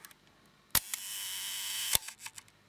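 A Nikon S3 2000 35mm rangefinder film camera fires its shutter at the 1 second setting. A sharp opening click starts a whirring clockwork buzz, and a second crisp click closes it a little over a second later, followed by faint handling ticks.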